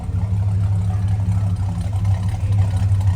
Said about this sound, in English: It's got dual exhaust and it sounds really nice.